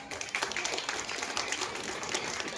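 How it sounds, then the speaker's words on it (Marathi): An audience at a Gudi Padwa women's empowerment event in Raigad applauds women leaders, a dense, steady crackle of many hands clapping together. "या सगळ्या महिला नेत्यांसाठी खूप जोरात टाळ्या वाजवा"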